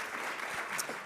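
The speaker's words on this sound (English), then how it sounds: "So that alone deserves a round of applause." An audience at a genetics conference claps in a brief, dense burst of applause, steady and fairly loud throughout the short moment, with no voices over it.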